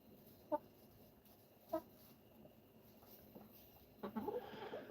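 A Delaware hen gives a few soft, brief clucks spaced a second or so apart, then a busier burst of clucking near the end, all fairly faint against quiet background noise.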